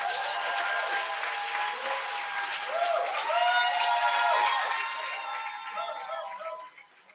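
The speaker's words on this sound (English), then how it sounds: "Can we give her another round of applause, please?" An audience applauds after a poetry reading at a poetry and music festival, steady clapping close by with tonal music or voices running through it before the sound fades out at the end.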